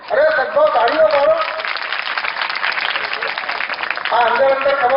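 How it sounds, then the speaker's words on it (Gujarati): An audience at a devotional kirtan antakshari gathering breaks into loud, sustained clapping, a dense ripple of many hands that swells, eases slightly, then builds again. "અરે સદભાવ તાળીઓ પાડો"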